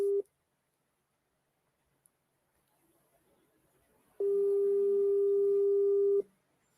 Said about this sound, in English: your phone is even ringing and you're not picking